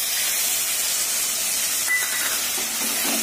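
Water poured into hot, well-fried spice masala, giving a loud, steady steaming hiss and sizzle close by, continuous for the whole short moment with no talking.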